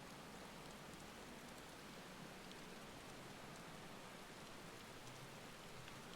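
Steady rain pours down in the video game Final Fantasy XVI, a dense, even hiss of falling water that holds without a break, fairly loud and with no voices over it.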